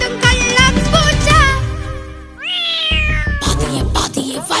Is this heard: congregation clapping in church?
no